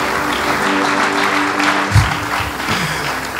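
A church congregation applauds and cheers loudly together during a worship service, a dense, continuous roar of clapping and voices with a brief louder burst near the middle.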